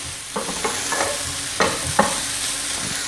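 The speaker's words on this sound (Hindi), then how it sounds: "चलिए अब हम इसमें डालेंगे सब्ज़ धनिया और सब्ज़ मिर्चें। इसको हल्का सा मिक्स करेंगे" A spoon stirs a potato filling with fresh coriander and green chillies in a sizzling pan, scraping in several distinct strokes over a steady close frying hiss.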